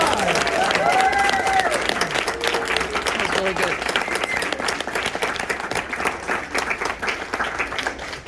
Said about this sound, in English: Let's give them another huge round of applause.